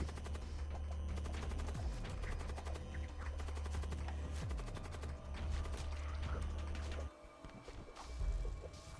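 A Storm Cannon fires in a space combat game, rapid volleys of sharp blasts crackling loudly in dense bursts, then a brief lull before more shots.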